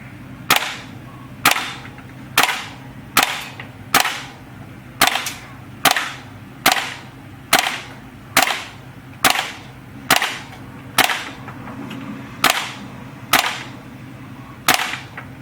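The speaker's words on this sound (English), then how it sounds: "I just wanted to show you how it shoots. Semi-auto, I'll do some semi-auto, then I'll do some full auto." A WE G39 G36c-style airsoft gas blowback rifle fires in semi-auto, producing loud sharp cracks, about a dozen evenly spaced single shots that ring out one after another in a steady rhythm.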